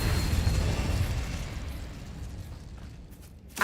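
A loud, rumbling fire-spell blast from the Incendio spell in Hogwarts Legacy, a broad burst that slowly decays over a few seconds, with a sharp crack at the very end.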